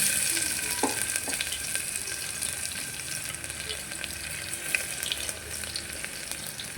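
Garlic frying in hot oil in a pressure cooker, a continuous close hiss and crackle with faint scattered pops, steady throughout with no voices.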